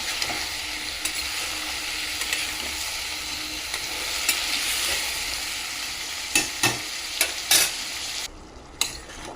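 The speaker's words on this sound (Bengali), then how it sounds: "দেবো পেঁয়াজ, সব একসঙ্গে ভালো করে ভাজা ভাজা হবে।" Onion frying in a pan for a ridge gourd and prawn curry, a steady close sizzle broken near the end by several sharp spatula scrapes and knocks.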